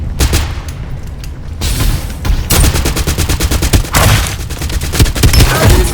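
Gunfire in the shooter video game Farlight 84, dense bursts of automatic fire and booms that come in loud rapid volleys, broken by brief pauses.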